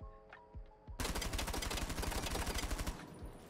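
Rapid automatic gunfire in the video game Rainbow Six Siege as the player strafes left and right, a dense steady burst of loud shots lasting about two seconds after a few quieter clicks.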